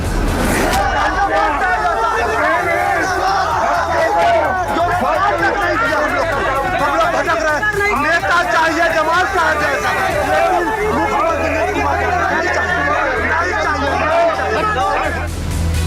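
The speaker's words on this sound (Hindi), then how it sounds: "उन्हें इस तरह बेरोजगारों की नारेबाजी सुनने को मिल रही है" A crowd of unemployed people shouts slogans at a Nitish Kumar election rally in Bihar: dense, loud, continuous chanting and babble from many voices throughout, close and unbroken.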